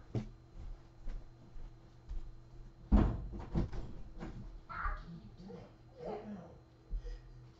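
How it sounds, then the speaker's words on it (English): A child bangs on a door from the other side, making muffled, uneven thuds, with a sharper knock partway through and faint voices in the room. "I got to yell at a kid who's banging in my door."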